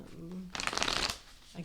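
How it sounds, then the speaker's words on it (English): Light Seer tarot cards being riffled and shuffled by hand, a dense papery burst of flicking in the middle following a quiet murmur of speech, with a faint voice returning at the end. "Let's get these cards shuffled"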